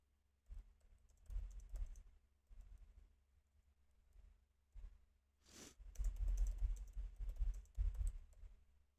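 Bursts of fast typing on a computer keyboard picked up through a microphone, clustered keystroke runs separated by short pauses, heavier and denser toward the end.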